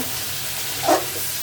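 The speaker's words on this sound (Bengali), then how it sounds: "এখন আলু দিয়ে আমি মাংসটা আর একটু ভালো করে আলুর সাথে কষাই নিব।" Beef and potatoes sautéing in a pan make a continuous close sizzle and hiss, with a short louder scrape of stirring near the end.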